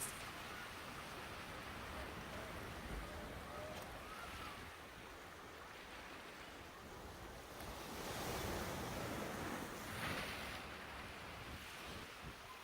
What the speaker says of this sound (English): just hearing the waves, seeing the waves, watching them crash on the rocks.